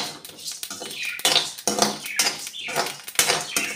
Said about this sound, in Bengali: খোলায় ভেজে নিচ্ছি মশলাগুলি, সবগুলাই হজমের জন্য ভালো।